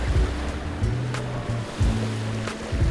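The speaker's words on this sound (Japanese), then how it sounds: "目が開かなくなるほど輝くエメラルドグリーンの海と白浜のビーチ" Ocean waves at Lanikai Beach in Hawaii, with its emerald-green water and white sand, wash in a steady surging roar, mixed with wind buffeting the microphone and a low tonal hum underneath.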